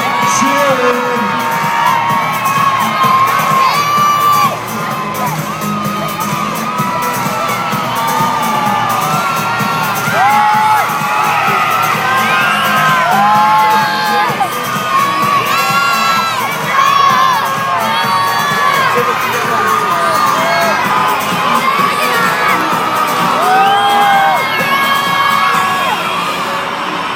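A loud Monster Jam arena crowd cheers, whoops and shouts continuously, with children's high yells rising above the steady roar throughout.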